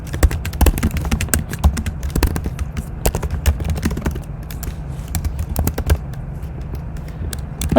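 Someone types on a computer keyboard during a programming session, giving uneven bursts of close, crisp key clicks and taps with short pauses between runs and no talking.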